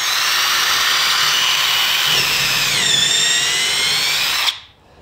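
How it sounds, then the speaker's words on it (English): A power drill fitted with a 7/32 inch bit bores into a wall while mounting a Jeep door hanger, a steady high whine holding for about four and a half seconds, dipping in pitch mid-way, then cutting off abruptly. "put our 7/32 inch drill bit back into our drill"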